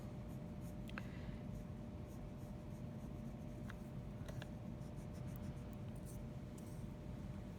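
Lines drawn on paper within a grid, a faint scratching of strokes that comes and goes over a steady low hiss, with no voices.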